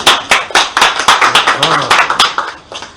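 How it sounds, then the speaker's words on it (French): A church congregation claps in a loose, uneven rhythm, distinct sharp claps close by with a few voices murmuring underneath, fading slightly toward the end. "Applaudissez dans ce cas pour vous-même."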